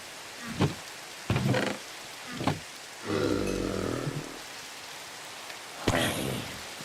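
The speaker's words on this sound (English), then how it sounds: "Alright, let's sleep and get rid of this rain." Rain in the Minecraft Skyblock video game, heard as several short bursts of game rain noise with a longer rumbling swell near the middle, broken by quiet gaps.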